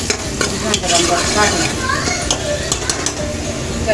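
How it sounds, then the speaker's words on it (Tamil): Onions sauté in oil until golden brown for chicken biryani, giving a steady, close sizzle with stirring scrapes and occasional pan clinks throughout, while faint voices carry in the background. "நல்லா கோல்டன் ப்ரௌன் ஆகணும் கோல்டன் ப்ரௌன் ஆகுற வரைக்கும் அதை நல்லா வதக்கி விடுங்க"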